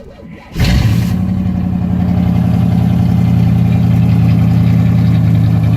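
A Berlinetta car engine cranks and catches after a brief quiet moment, then settles into a loud, steady idle with a deep, even rumble that holds unchanged to the end, with no voices over it.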